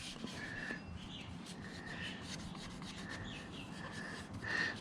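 Cloth rubbing clean the oil filter mating surface on a Yamaha XV950 Bolt motorcycle during an oil change, a steady close scrubbing and wiping that runs throughout, with no talking.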